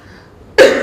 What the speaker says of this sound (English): I'm just going to entertain you with some coughing